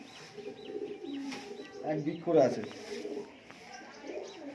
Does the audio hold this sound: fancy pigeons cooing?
yes